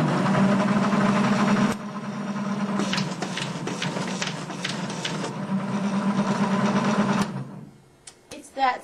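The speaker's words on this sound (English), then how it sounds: "another unique feature is to see it fold and refold a folded sheet" Dynafold DE-8 automatic paper folding machine refolding already folded sheets, a steady mechanical whirr with a low hum and rapid clicking feed transients, running continuously and close, then stopping near the end.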